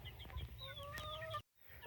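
Chickens on a Central Texas homestead cluck and chirp in a steady flurry of short calls, fairly close, before the sound cuts out abruptly near the end.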